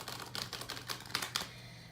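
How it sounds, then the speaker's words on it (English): Tarot cards being shuffled by hand, a run of quick papery riffles and snaps in an uneven rhythm, close and fairly quiet, with no one speaking. "Alright, so now I'm just going to shuffle up the cards"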